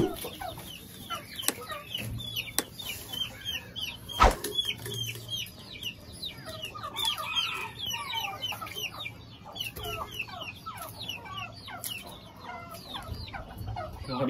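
Chickens clucking steadily inside cages on a rainy day, many overlapping cackles and short calls from several birds nearby, with a few sharp knocks in the background and no talking.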